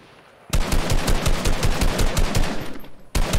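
Rapid automatic gunfire in Fortnite, a loud, close burst of evenly spaced shots lasting about two and a half seconds, then a brief pause before firing resumes.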